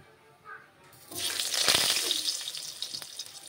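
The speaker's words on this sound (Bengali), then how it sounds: "ফুটফুট করে জিরে ফুটছে, ফুটফুট।" Cumin seeds sputter in hot oil as potatoes cook in a home kitchen pan, rising from near quiet into a steady, close crackling sizzle with scattered pops.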